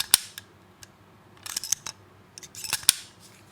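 An AR-15 rifle's charging handle catch drops in and out, giving a handful of sharp, close metallic clicks and snaps scattered irregularly over quiet gaps.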